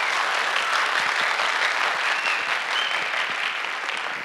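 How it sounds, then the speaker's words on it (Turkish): A school audience at a high school debate contest claps loudly and steadily, a thick wash of applause that tapers slightly toward the end. "arkadaşlarımız için kuvvetli bir moral alkışı rica ediyorum"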